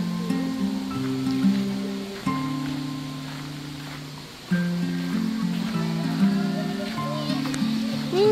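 River water flowing steadily at a bamboo campsite, a constant broad wash under people talking nearby throughout.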